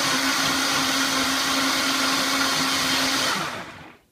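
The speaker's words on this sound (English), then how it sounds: "You're gonna need a high-tech blender to grind this up." A high-speed blender grinds soaked sea moss with water loudly with a steady whine, then winds down and cuts off near the end.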